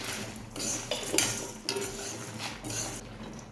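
Cumin seeds and already-roasted peanuts dry roasting in a kadai for a bitter gourd spice powder, with a steady run of scraping, rattling stirs against the pan, close and fairly quiet, no voices.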